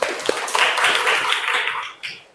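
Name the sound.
applause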